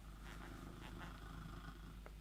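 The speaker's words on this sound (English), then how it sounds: "all you're going to hear is him purring next to me now" A soft, steady cat purr close by, a low continuous rumble with faint breathy textures, no voices.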